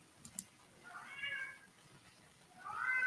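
A cat meows twice indoors, each a drawn-out plaintive call about a second apart, fairly close and moderately loud after a couple of faint clicks.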